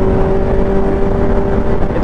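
Sport motorcycle overtaking cars on a road, a loud, steady engine drone with wind rush and a sustained tonal whine, close and continuous with no talk.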